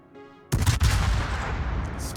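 A warship's guns fire in World of Warships: a soft tonal hum gives way to a sudden loud booming salvo with a second quick blast, then a long rumbling decay.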